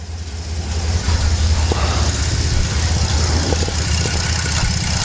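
A turbocharged Suzuki Hayabusa motorcycle engine idles loud and close, with a steady low drone and the turbo blades spinning in the background.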